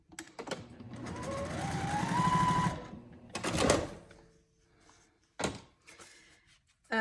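Sewing machine stitching foundation paper pieced blocks, a rapid whirring run of a couple of seconds followed by short bursts and clunks from handling the fabric, fairly quiet.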